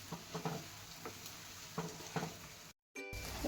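Egg bhurji sizzles and crackles in a frying pan as it is stirred, with soft scraping knocks under the hiss and a short dropout near the end before the frying resumes.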